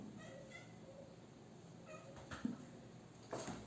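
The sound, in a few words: cat meowing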